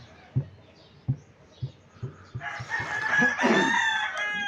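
A rooster crows loudly and close, its long call rising to a strained, harmonic-rich peak after a few sharp knocks or clucks, with no talk over it.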